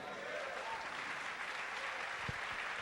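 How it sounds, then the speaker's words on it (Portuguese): A church congregation claps together in steady, dense applause at a moderate distance, continuous throughout with no voices over it. "aplauda ao Senhor também"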